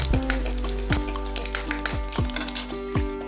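Five-spice seeds and two dried red chillies frying in hot oil in a wok, a steady sizzle broken by several rhythmic scrapes of a stirring spatula against the metal.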